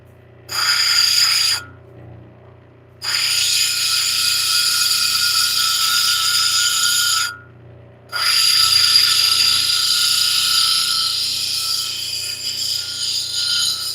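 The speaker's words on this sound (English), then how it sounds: "You have the 2 hard wheels here and here that are diamond wheels, starting at 100 grit, working up to 220 grit." Diamond grinding wheels, stepping from 100 to 220 grit, shaping flint and larimar into a cabochon: a loud, steady high whine of stone against abrasive, broken by two short pauses where the grinding stops before resuming.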